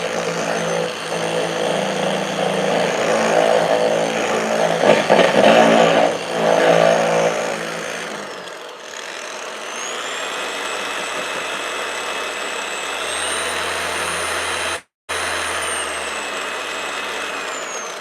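Pad washer used to clean a car polishing pad during paint correction, a loud steady mechanical whir with a surging spin-up early on, then a sustained even drone with a brief cut near the end.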